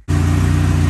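A Mazda Miata engine fitted with modified drift knuckles kicks into a loud, steady running drone after a brief quiet start, holding an even low rumble throughout.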